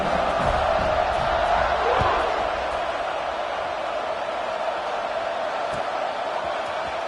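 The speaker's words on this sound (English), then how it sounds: "this crowd is buzzing after that last score" A football stadium crowd after a touchdown makes a steady, distant roaring murmur that swells slightly at first and then holds, with a commentator talking over it.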